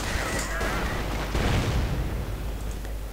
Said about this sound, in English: Suppressive fire being unleashed, causing all the Volksgrenadiers and Grenadiers to hit the ground.